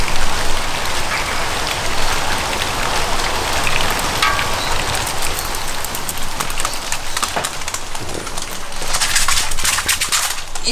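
Steady rain patters on surfaces outdoors, a continuous broadband hiss with denser, louder drips toward the end and no voices.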